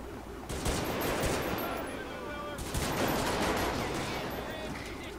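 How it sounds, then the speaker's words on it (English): Rapid bursts of gunfire in a police video game, a dense crackling fusillade that goes on almost without a break from start to finish, at mid-distance with no clear gaps. "Who the hell is still shooting?"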